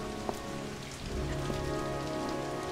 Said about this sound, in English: That's how much rain there is. It's a heavy rain, Jeremy.